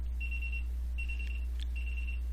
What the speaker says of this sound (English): Okay, my alarm clock is going off.